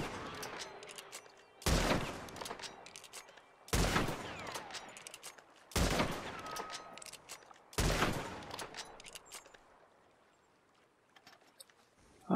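A Springfield rifle firing regular bullets in a video game, four loud, sharp shots spaced about two seconds apart, each with a short decaying tail over faint background ambience, plus one more crack at the very end.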